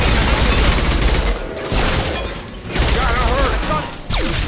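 Sustained bursts of automatic gunfire aimed at hostile mechs in the shooter game Mass Effect 2, loud and dense with rapid rattling volleys, brief pauses between bursts and game sound effects layered over it.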